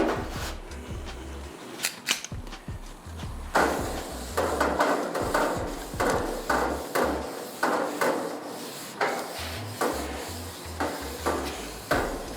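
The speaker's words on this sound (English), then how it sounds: "I usually just use a paper towel and some tongs and lightly coat all the cooking grates." Tongs holding a paper towel wipe oil across the metal cooking grates of a Blaze LTE Pro 40 gas grill, giving repeated close scraping, rubbing strokes and occasional clanks in an irregular rhythm.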